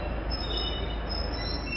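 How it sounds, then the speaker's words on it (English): A fast-charging battery train on a trial run on a West London railway line, heard as a steady, even rumble of rolling wheels and running noise that carries without a break and with no voices over it. "These trains using fast charging batteries are being trialled, the first of its kind, on the railways in West London."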